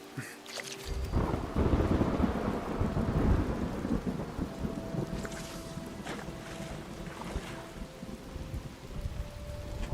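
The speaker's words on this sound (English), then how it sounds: "Chuck a thunderstorm machine down, have some rainy weather and give yourself a better chance of getting rarer fish." Thunderstorm and steady rain produced by a thunderstorm machine in the game Fallout 76, a continuous rushing downpour with rumbling thunder that swells early and then settles into a sustained wash, with no talking.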